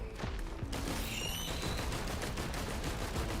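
Commando's dual pistols in Risk of Rain 2 firing a rapid auto attack, dense continuous bursts of gunfire rattling loudly throughout amid other game noise.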